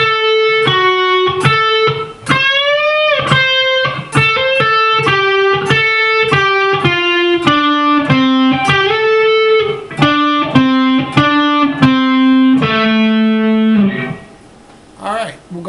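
An electric guitar plays a riff at full speed: a fast run of clear, ringing notes with several upward bends. A long, lower note closes it before a burst of noise at the end.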